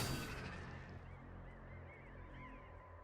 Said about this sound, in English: new bird sounds. Did you hear that? It was like crows flying away